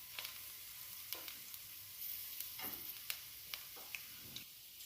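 Olive oil sizzles in a frying pan with a garlic clove, a bay leaf and a sprig of rosemary, a steady soft hiss broken by sharp pops and crackles at irregular moments, heard up close.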